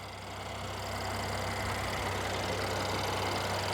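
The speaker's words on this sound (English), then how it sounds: "You can hear it idling nice and smooth." A 2019 Mercedes E 450 wagon with a twin-turbo V6 idles smoothly, a steady low hum with a faint even ticking, heard up close under the open hood and holding constant throughout.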